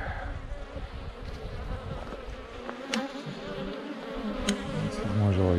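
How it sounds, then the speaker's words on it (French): Honey bees swarming around a beehive during beekeeping, a close, dense buzzing drone with individual bees whizzing past, steady throughout and growing slightly louder at the end. "le gros paquet d'abeilles il est là-bas"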